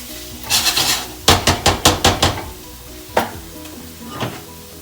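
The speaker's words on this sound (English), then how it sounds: "Really important part in the katsu sauce is to sweat off your spices." Spices sweating in a hot pan for a katsu sauce, sizzling loudly while a utensil scrapes and knocks against the pan in a quick run of about six rhythmic strokes, then a couple more.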